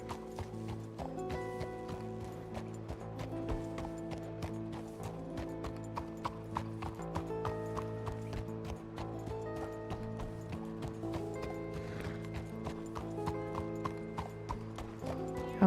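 Horse hooves clip-clop at a steady gait in the Red Dead roleplay game WildRP, running continuously beneath a sustained layer of music with an occasional whinny.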